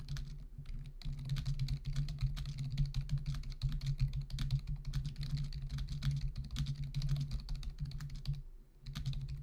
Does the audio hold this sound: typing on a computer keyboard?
yes